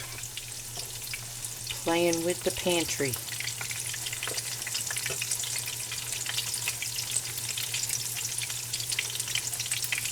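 Freeze-dried pork chops sizzling and frying in a pan, a continuous close crackle and hiss with a steady hum underneath, while a voice briefly speaks over it.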